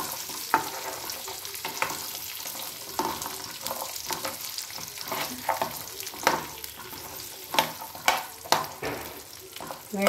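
Raw tamarinds frying in a pan with a steady sizzle, punctuated by repeated scraping strokes as they are stirred, close and fairly loud with no speech.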